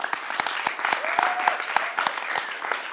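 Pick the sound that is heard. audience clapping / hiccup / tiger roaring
audience clapping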